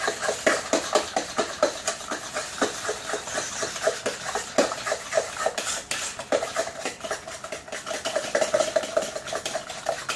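A fork stirs homemade pumpkin pie filling in a bowl, clinking against the sides in quick, steady, repeated strokes that run on throughout.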